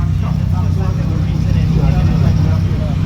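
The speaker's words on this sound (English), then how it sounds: "My car just noisy, that is all." Honda VTEC-powered F2000 race car at a night Gridkhana head-to-head racing event, its loud engine droning steadily and close throughout with a strong low rumble.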